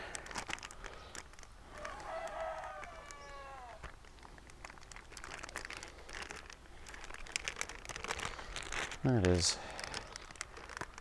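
A plastic Ziploc freezer bag crinkles and rustles close by as a rooster weighing about four or five pounds is pushed inside, with someone talking over it and a brief animal squawk near the end.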